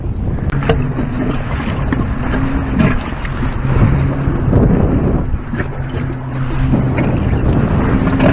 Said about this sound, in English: Sailing off the wind a little bit now.